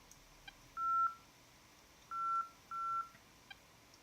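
Radar warning receiver in an A-10C flight simulator sounds three clear tonal beeps, one then a pair, with faint short ticks between, quiet and alone.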